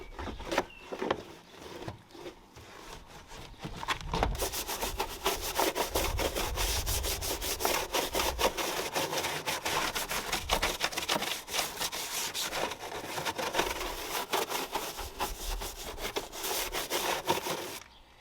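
Foam-sprayed car wheel arches are scrubbed clean with a brush, making close, continuous, rough back-and-forth scraping strokes that hold steady throughout.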